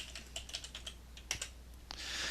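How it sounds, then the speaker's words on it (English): Quick clicking keystrokes on a computer keyboard, close and fairly quiet, a rapid run of taps with a brief pause before a final burst of hiss. "I'm going to type divide from the keyboard"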